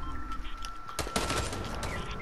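A sharp burst of SCAR rifle fire in Fortnite, rapid cracking shots packed into about a second, loud and close over a humming game background.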